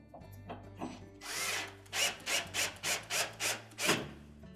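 A power drill drives screws in, with one longer whirring run followed by a string of short, loud, evenly spaced bursts, close up and with no talking.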